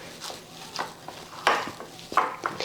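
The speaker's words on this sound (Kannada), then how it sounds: "ಅದೆಲ್ಲ ಹಾಕ್ಕೊಂಡು ಮಿಕ್ಸ್ ಮಾಡ್ಕೋತೀನಿ ರೀ" A spoon stirring a leftover rice snack mixture with chopped coriander and curry leaves in a pan, giving soft scraping strokes and a few sharper clinks at an irregular pace, close by.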